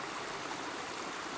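Waterfall running down the middle of a stream in Borrowdale, Lake District, in autumn, a steady broadband rush of moving water heard at a moderate distance, continuous and unbroken with no voices.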